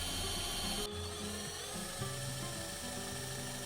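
A power drill bores a hole into wood with an electrical-tape depth stop on the bit, its motor whining steadily and shifting pitch under load, close and continuous with no speech.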